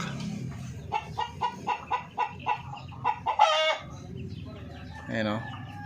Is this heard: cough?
no